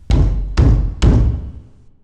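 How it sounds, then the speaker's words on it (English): Three heavy, evenly spaced blows from a fist on a metal-slatted door with no knob, each a loud, close thud with a short ring-off, alone with no talk. "Cronan pounded on the door."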